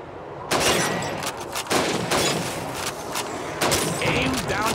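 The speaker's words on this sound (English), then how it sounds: "Shoot those bottles and plates." Rifle shots at bottles and plates on a Soviet Red Army training shooting range in Call of Duty 2, several loud, sharp reports spaced about a second apart, with game voices speaking between them.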